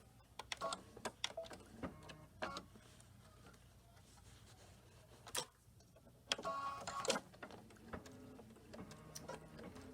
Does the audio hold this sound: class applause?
no